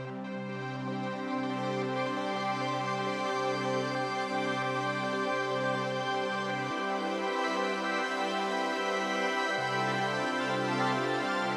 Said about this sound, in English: I have a very simple sawtooth sound with all 3 granular delays active, and they all have completely different pitch settings